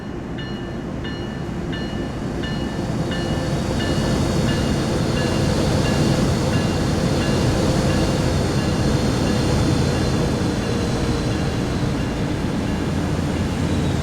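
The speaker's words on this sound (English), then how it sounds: "there goes the end of that train" A freight train rumbles past at close range in the rain on Cajon Pass, a loud, steady roar of rolling wagons with a faint horn-like tone drifting through it.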